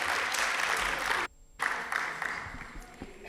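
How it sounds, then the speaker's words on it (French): An audience at a debating contest final applauds loudly and steadily, with a brief sharp drop in the middle before the clapping resumes. "On peut encore les applaudir bien fort."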